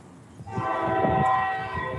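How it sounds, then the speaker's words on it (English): A train horn sounds in a sustained, harmonic blast over rumbling rail noise, fairly loud and building as the train approaches. "I hear us a train coming."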